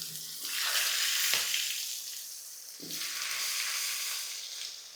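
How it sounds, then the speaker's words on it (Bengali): Potatoes drop into hot oil spiced with cumin and cardamom, setting off two loud surging sizzles, each rising into a sustained hiss with a sharp splash at the start. "এবার আমি তেলের মধ্যে এই আলুগুলোকে দিয়ে দেবো।"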